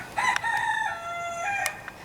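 A rooster crows in a neighborhood, one long drawn-out cock-a-doodle-doo heard clearly at moderate distance with no talk over it.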